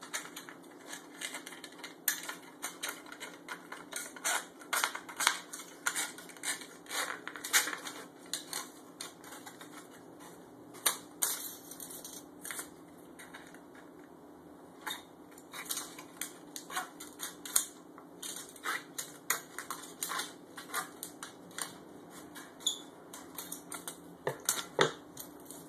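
Scissors cutting a strip from a thin aluminum pop can for an alcohol stove, a long run of faint, close crisp snips and crinkles at an uneven rhythm, with no talking.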